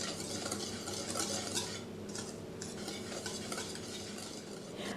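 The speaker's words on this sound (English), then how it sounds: "Using a whisk, stir until well blended." A whisk stirs flour with garlic powder and instant dry yeast in a bowl for breadsticks dough, a steady scraping, rustling swish that carries on without pause for five seconds, close and fairly quiet.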